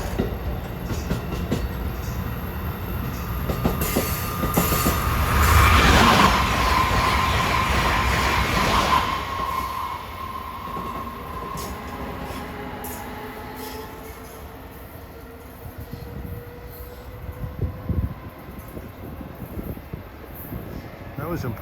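Amtrak Acela Express train 2170, bound from Washington to Boston, sweeps through Princeton Junction, New Jersey with a broad roar that swells near the middle and fades into a long rumbling tail, with voices over it.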